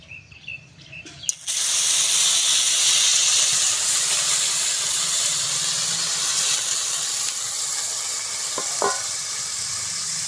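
Butter cream (fresh cream for ghee) hitting a hot wok over a village clay stove, bursting into a loud, steady hiss and sizzle that stays strong and continuous after a brief quiet start, with a few faint clinks near the end.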